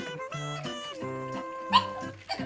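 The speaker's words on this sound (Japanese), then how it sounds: "あ来ためっちゃ吠えてるめっちゃ吠えてる" An adult female pug at home gives a run of high, whiny yips and short barks, close and fairly loud, with a sharper yelp near the end.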